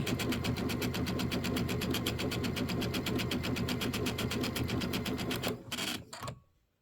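A sewing machine quilts the inner and outer borders of a Nativity bench pillow, stitching in a fast, steady rhythm up close. It then sputters through a few uneven stitches and falls silent.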